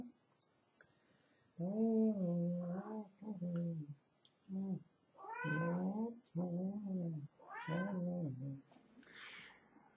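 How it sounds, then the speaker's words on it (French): A cat meows repeatedly and close by, giving a run of drawn-out, wavering meows with short pauses between them, rising and falling in pitch. "Voilà le chat."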